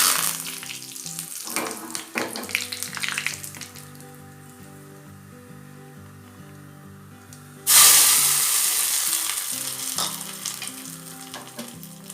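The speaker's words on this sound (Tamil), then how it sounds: "எண்ணெய் நல்லா காஞ்சிருச்சு. கடுகு உளுத்தம் பருப்பு சேர்த்துக்கலாம்." Mustard seeds and urad dal go into hot oil for adai dosa. The oil gives a loud, steady sizzle that flares up sharply partway through and then keeps hissing close by.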